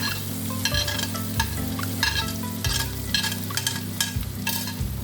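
Raw onions fry in hot oil for a rohu fish curry, a steady close sizzle with repeated stirring scrapes and soft rhythmic knocks of the spoon against the pan.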